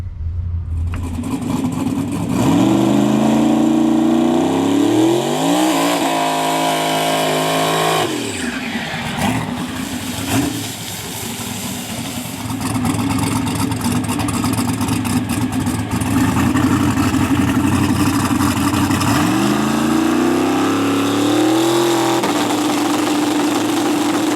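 A small-engine race car makes a test pass: the engine idles, then revs hard in rising sweeps through several gear changes, drops off, and climbs again. The sound is loud and close, with no talking.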